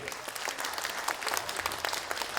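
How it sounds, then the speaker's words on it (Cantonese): Audience applause at a Toronto real estate summit seminar, a dense, steady round of clapping from a crowd that fills the whole stretch without pause. "俾啲掌聲佢哋"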